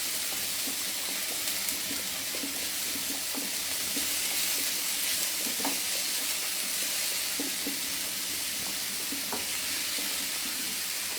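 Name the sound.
food frying and cooking in a pan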